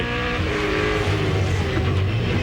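A V8 Supercar racing at Barbagallo in the 2002 championship, its engine a loud, continuous, near roar with a steady droning tone throughout, as if passing trackside.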